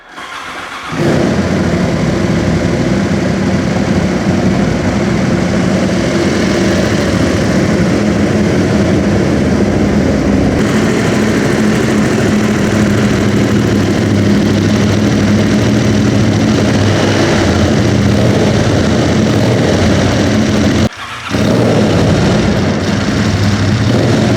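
A motorcycle engine with its original exhaust starts in neutral and settles into a steady, loud idle that runs evenly, with one brief dip before resuming.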